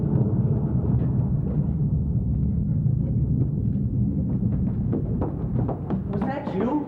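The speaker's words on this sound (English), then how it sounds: "That's thunder and lightning caused by extreme atmospheric pressures in the skies above us." Stage thunder sound effect in a theatre play, a loud sustained low rumble with scattered thuds and cracks building toward the end, set against a murmuring audience.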